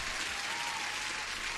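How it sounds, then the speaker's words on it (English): Steady, dense applause rings out during a live futures day-trading stream's morning session, a continuous wash of clapping with no pauses for its short length and no talking over it. "And applause to everyone."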